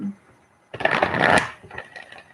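Tarot cards are shuffled close by in one quick riffling burst of about a second, followed by a few softer card rustles in an otherwise quiet room.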